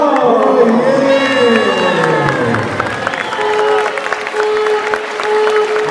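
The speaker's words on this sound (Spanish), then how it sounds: "Los aplausos, vamos." Audience applause and cheering at a provincial children's pageant, loud crowd clapping with whoops and shouts that gradually settle into steadier clapping, while a voice talks over the noise.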